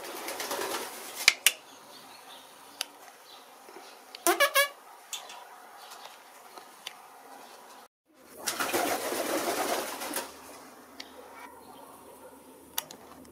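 Pigeons at a breeding loft resting on a sunny plank, with sporadic flapping bursts and faint calls, a loud flurry of wings near the middle and a longer rustling burst later.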